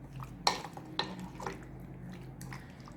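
Spices are mixed into a chicken marinade in a bowl: three quiet utensil clinks and wet stirring sounds in the first second and a half, then a faint hushed background.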